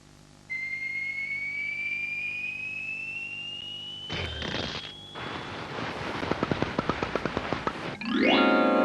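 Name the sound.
cartoon firework display finale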